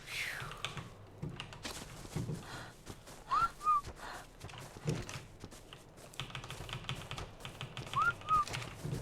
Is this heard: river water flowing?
no